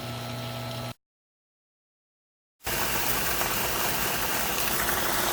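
A newly installed jet water pump hums steadily, cuts out for a couple of seconds of silence, then returns as a louder, rougher whirring drone once primed.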